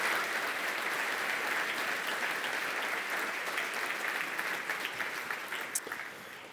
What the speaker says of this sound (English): So please, can we have a round of applause for our category entries and our winner,